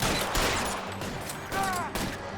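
Rapid bursts of heavy gunfire from big guns in the video game LA Noire, irregular loud volleys over game ambience, with a faint whistle-like tone partway through.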